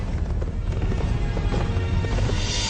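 Horse hooves clip-clopping steadily at a walking pace, loud and close over a dense, noisy background, with no voices.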